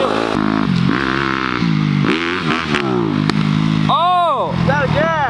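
A dirt bike engine on a motocross track sputters and surges unevenly as it runs out of gas, rising and falling revs loud and close, with people talking over it.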